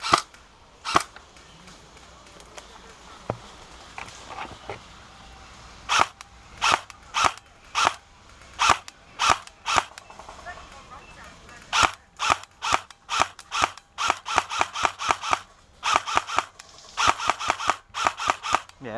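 Airsoft guns fire single sharp snapping shots outdoors during a skirmish game, irregular at first and then in quicker repeated bursts, fairly close and loud, with faint voices in the background.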